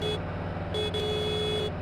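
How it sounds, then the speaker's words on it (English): A car horn in a driving video game blares in steady tones, sounding three times with short breaks between, over a constant low engine hum. "Oh, we have horn as well."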